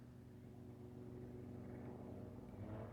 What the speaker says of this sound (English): I think I hear a small aircraft and possibly a helicopter.